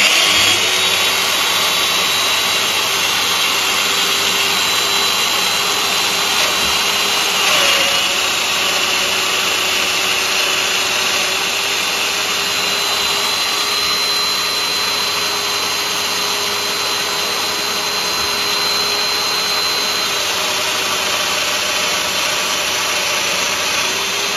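A Festool DF500 Domino joiner runs on its medium setting, giving a loud, steady motor whine with dust-extraction hiss. Its pitch dips briefly as the cutter plunges into the wood, then holds steady.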